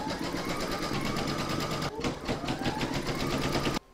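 An embroidery machine sews a first round of placement outlines for an in-the-hoop pouch project, giving a steady, fast, close stitching whir with a high motor whine throughout, briefly dipping near the middle and cutting out just before the end.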